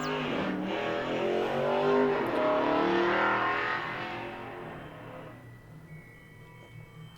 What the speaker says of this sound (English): those cars always sound like they are right outside my window